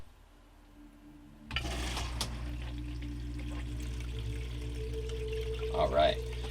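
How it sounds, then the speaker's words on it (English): Water rushes steadily through a gold prospecting sluice box as paydirt is wetted up, a continuous broadband wash starting abruptly and holding close, with a brief splash or clatter near the end. "we're going to get this stuff all wetted up, get the sluice running"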